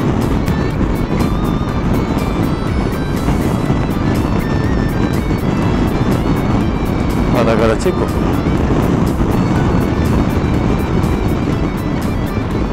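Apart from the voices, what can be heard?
Peugeot Metropolis 400 cc engine while riding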